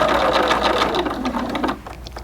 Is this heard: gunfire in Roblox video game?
no